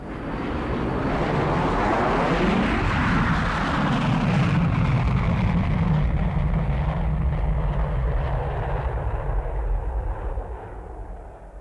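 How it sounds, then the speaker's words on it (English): A jet aircraft roars past on a 1950s stereo demonstration recording, a loud, sustained broadband rush that swells and sweeps in pitch as it passes, then gradually fades toward the end. "It's time for a jet to bore a hole in the sky."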